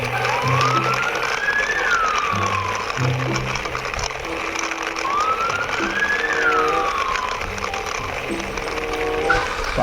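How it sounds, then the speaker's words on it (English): A toy ambulance siren wails in repeated rising-and-falling sweeps, two full cycles plus the start of a third, alongside a steady electronic tune from the toy, loud and close with no talking. "Now I will drive this ambulance."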